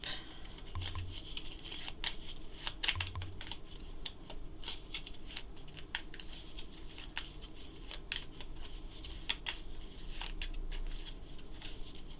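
Soft, rapid papery clicks and flutters of Wingspan board game cards being shuffled up close continue steadily at a quiet level.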